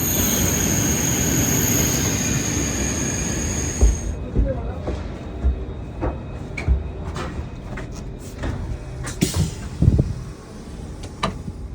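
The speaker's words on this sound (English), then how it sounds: "The additional end-of-weekend evening peak TGV to Bordeaux slides into the concrete borough of Massie." An SNCF TGV Duplex double-deck train, an end-of-weekend evening service to Bordeaux, rolls into Massy station, a steady loud rumble with high brake squeal for four seconds, then quieter clanks, knocks and scattered station noises as it comes to a stop.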